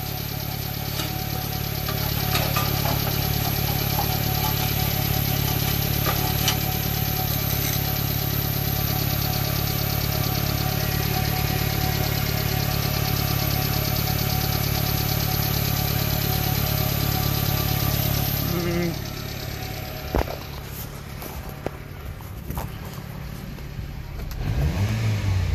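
A Subaru Sambar hicab engine, run for the first time in a month or two, holds a loud, steady idle with light revving, then cuts out near the end, leaving quieter clunks and faint sounds.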